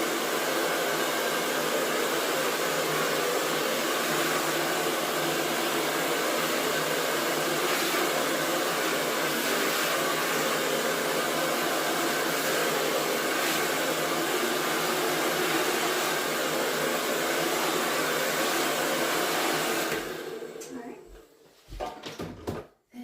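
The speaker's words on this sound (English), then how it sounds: "if I can find my hair dryer. I'm going to dry it just really quick" A hair dryer blows steadily and loudly for about twenty seconds while drying a chalk-paint craft project, then switches off, leaving a few faint handling knocks.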